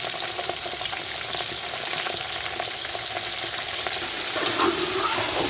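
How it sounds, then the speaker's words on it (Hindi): Chicken fries with onions in a pan over a medium flame, giving a steady, close, crackling sizzle with occasional stirring scrapes throughout. "अब इसके अंदर मैं चिकन डालने लगी हूँ"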